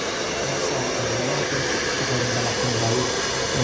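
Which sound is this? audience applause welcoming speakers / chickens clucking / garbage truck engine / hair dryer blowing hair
hair dryer blowing hair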